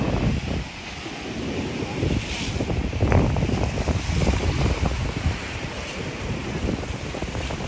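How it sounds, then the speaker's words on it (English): Ocean surf and steady wind at the beach of Sebastian Inlet State Park, south of Cocoa Beach, Florida, giving a continuous roaring wash with heavy wind buffeting on the microphone. "Sebastian Inlet State Park."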